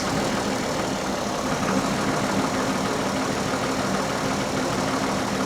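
An old Mustang's inline engine idles with cylinder 3's plug wire disconnected, giving a steady, loud, close rumble that never varies and has no talking over it.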